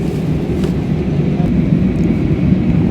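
A steady low engine roar fills the air, an airliner's cabin drone in flight through dusty, turbulent air, constant and loud without pauses.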